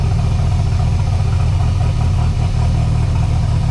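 A boosted Mercruiser 140 boat engine idles while still warming up, giving a steady low rumble with a faint uneven pulse, close and constant, alone without any voices.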